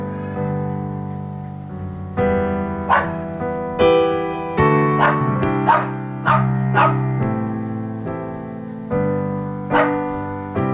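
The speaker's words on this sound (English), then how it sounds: "Why don't you just go upstairs instead of barking?" A dog barks repeatedly at close range, sharp yips and barks in uneven bursts with short whiny pauses between them.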